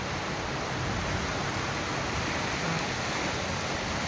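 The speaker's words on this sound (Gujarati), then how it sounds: "આમ જોવો કેવો ધબધબાટી વરસાદ આવે છે" A nighttime downpour of the season's first rain in Surat makes a thick, steady roar of falling water, constant and near, with nobody speaking.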